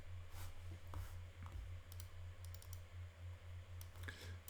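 Faint, scattered keystroke clicks on a computer keyboard during terrain-modelling computer work, tapping irregularly over a steady low electrical hum, with no voices.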